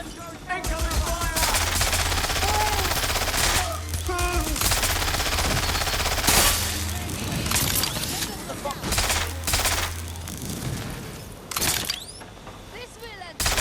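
Dense gunfire rattles through a Watch Dogs Legion firefight, with bursts of automatic fire, single shots and shattering impacts coming in waves while voices shout over the shooting.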